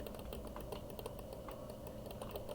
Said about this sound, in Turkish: Fare sesi gelebilir. Tık tık diye.